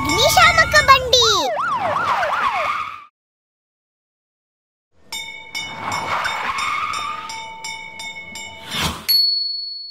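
A cartoon police jeep and fire engine sound off with loud wailing, warbling sirens and engine noise, then a short silence before more siren tones and a sharp whoosh, with no voices.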